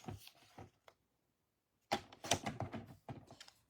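A paper trimmer cuts cardstock in two close bursts of quick, crisp clicking and slicing strokes, separated by about a second of silence.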